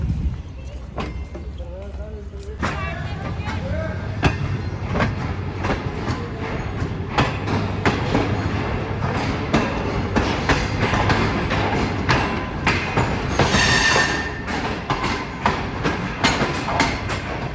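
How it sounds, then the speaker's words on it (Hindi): The Shah Hussain Express rolls off after a brief stop, with clicks and clunks from the wheels and couplings picking up pace, a soft hiss of brakes releasing, and voices talking aboard the train. "तो सिर्फ 1 मिनट के लिए रुकी थी ट्रेन और फाइनली मूव होना शुरू।"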